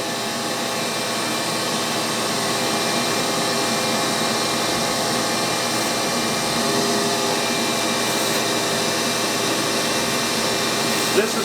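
A vacuum draws ash from inside a wood stove over a metal plate on fiberglass, a steady close whine and rush holding constant throughout with faint rattles.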